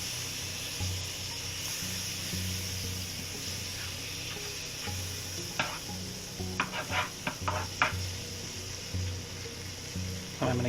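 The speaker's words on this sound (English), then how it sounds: "I've got my pan onto a medium-high heat. I'll put down a couple tablespoons of butter or margarine" Butter or margarine sizzles steadily in a pan over medium-high heat, a continuous frying hiss with a few clicks and scrapes from stirring near the end, no talking.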